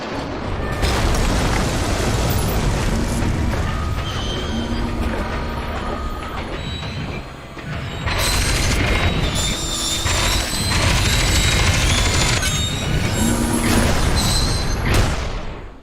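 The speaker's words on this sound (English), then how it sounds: "Too close to the explosion." An explosion in the shooter game F.E.A.R. 2, heavy booming rumble with mechanical clatter and sustained roaring noise, loud and continuous, swelling again in the second half.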